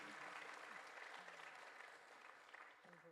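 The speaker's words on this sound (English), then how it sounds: "A big round of applause to them" Steady applause from an audience at an Arangetram dance performance, honoring the accompanying musicians; dense clapping fills the whole stretch at even volume with no voices standing out.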